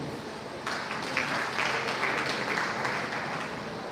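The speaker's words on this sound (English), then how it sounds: "A round of applause for you." A crowd at an inter-tertiary debate competition breaks into clapping after a brief quiet moment, steady and moderately loud, continuing to the end.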